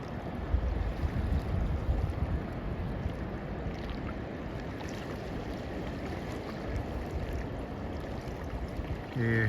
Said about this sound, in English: there's a good surf coming in